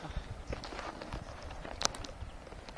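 Irregular hoof clops of horses moving on ground outdoors in springtime at Terezin, moderately near, with a sharper knock partway through and low background noise.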